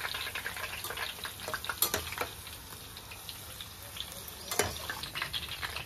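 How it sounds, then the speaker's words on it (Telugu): Mushroom pickle frying in bubbling oil gives a steady crackling sizzle, close and fairly quiet, with a few sharper pops and scrapes along the way. "ఇది మొత్తము ఇట్లా ఈ బబుల్స్ వస్తున్నాయి కదా, ఈ బబుల్స్ అనేవి పోవాలి. బబుల్స్ అనేవి పోతే మనకు ఫ్రై అయినట్టు."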